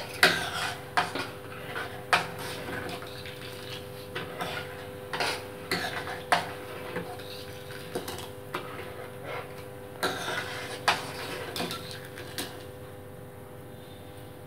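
A spoon stirs sugar into leftover cooked rice in a pressure cooker pot while making kheer, giving repeated sharp metal clinks against the pot at an irregular rhythm over soft scraping, close by and without talk.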